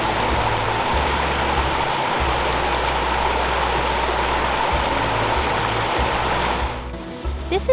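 Meigs Creek Cascades, an 18-foot cascade on the Meigs Creek Trail in the Great Smoky Mountains, pours over rock ledges with a steady, close broadband rush. A low rumble sits under it, and the rush softens near the end.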